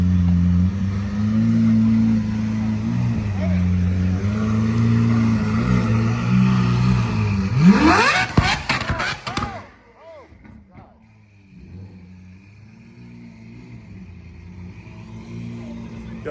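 A car engine idles loudly, then revs hard in a rising sweep before pulling away, its roar fading into quieter background noise and distant voices.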